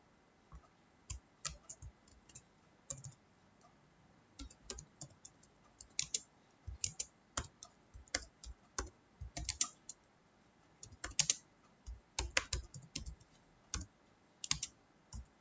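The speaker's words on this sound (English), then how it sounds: "Now we'll type the program." An HTML program is typed into Notepad on a computer keyboard: irregular bursts of crisp key clicks, close and fairly quiet, with short pauses between runs of keystrokes.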